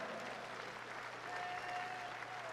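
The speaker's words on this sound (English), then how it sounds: "Ladies and gentlemen, please a round of applause" Steady applause from a boxing crowd after a WBO Intercontinental Cruiserweight title fight, Denis Lebedev against Enzo Maccarinelli, fairly faint and continuous with a thin whistle running through it.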